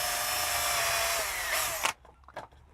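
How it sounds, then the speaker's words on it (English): A power drill bores a hole through a piece of plywood, a loud steady whine with grinding texture that winds down abruptly near the end, followed by a couple of brief knocks. "I could just drill a hole in the piece of plywood"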